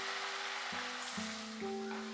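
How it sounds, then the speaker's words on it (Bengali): Flattened jackfruit pakoras fry in hot oil over a medium-low flame, giving a steady, soft sizzle with a faint hum underneath and no voices. "আঁচটাকে কমিয়ে কমিয়ে পকোড়াগুলো আমাদের ফ্রাই করতে হবে।"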